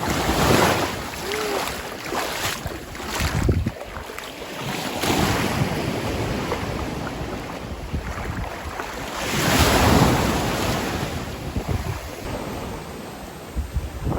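Ocean waves wash onto the beach at Anse Major in the Seychelles, a steady broadband surf roar that swells near the start and again around ten seconds, with gusty wind buffeting the microphone throughout.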